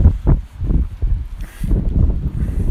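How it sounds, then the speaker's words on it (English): Wind buffets an iPhone microphone outdoors at the Herrington Park amphitheater after rain, making loud, uneven low rumbles and thumps throughout, with no speech heard. "Might be a bit windy"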